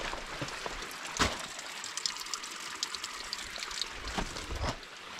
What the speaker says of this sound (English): the entire beach is just one big kind of trickling waterfall